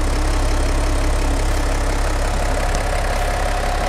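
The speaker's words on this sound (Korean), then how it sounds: "엔진 소리 일정합니다." BMW X6 F16 M50d diesel engine idling with the hood open, a steady, even, close mechanical hum with a low rumble and no revving.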